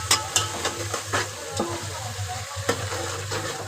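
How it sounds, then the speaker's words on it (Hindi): Spice paste with garlic sizzling and frying in a pan for khichdi, with a steady crackle broken by repeated sharp scrapes and taps as it is stirred up close. "इसको थोड़ा सा भून लेंगे पेस्ट को, देखिए तो अच्छे से इसकी भुनाई कर लेंगे।"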